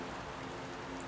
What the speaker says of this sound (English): welcome to rain.